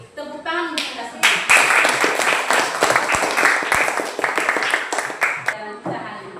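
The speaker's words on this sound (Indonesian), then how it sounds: "Oke, tepuk tangan untuk kita semua." Applause and clapping from a classroom of students after a lesson activity, a dense burst of many hands lasting several seconds, loud and close, with a teacher's voice before and after.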